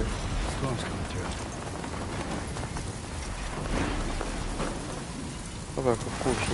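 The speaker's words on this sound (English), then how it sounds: "Storm's coming through." Steady rain falling in the Death Stranding 2: On The Beach video game, a dense continuous hiss with a low rumble of thunder throughout, fairly loud, with a brief sharper sound near the end.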